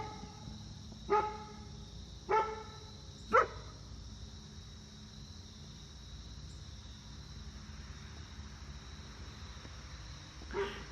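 A dog answers another dog with several spaced barks, three close together early and one more near the end, set against steady crickets and faint outdoor hum.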